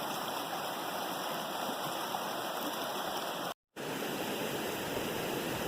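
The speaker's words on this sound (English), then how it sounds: "That's what's creating all the rapids." River rapids rushing over fallen trees and branches near an old farm site, a steady loud broadband roar of flowing water with no voices, briefly cut out near the end.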